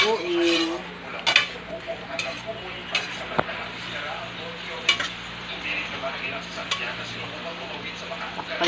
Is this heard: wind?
no